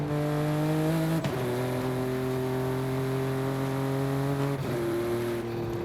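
A BMW M4 engine in Forza Horizon 5 holds a steady high drone, broken by two quick gear shifts that briefly dip the pitch before it settles again, loud and continuous with no talk.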